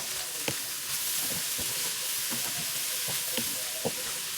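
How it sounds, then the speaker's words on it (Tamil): Carrot, leeks and cabbage stir-fried for chicken fried rice, a steady close sizzle with repeated scraping and tapping of the stirring utensil. "அதெல்லாம் ஃபுல்லாக நாங்கள் போட்ட பிறகு அதை நல்லா கிளறி விடுவோம்."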